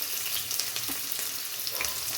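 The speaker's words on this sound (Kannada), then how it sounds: "ಸಾಸಿವೆ ಹಾಕ್ಕೊತಾ ಇದ್ದೀನಿ ಮತ್ತು ಈರುಳ್ಳಿ ಹಾಕ್ಕೊತಾ ಇದ್ದೀನಿ." Mustard seeds and onion sizzle in about six spoons of hot oil for a tempering, a steady, close, dense crackle running unbroken for the whole stretch with no voices.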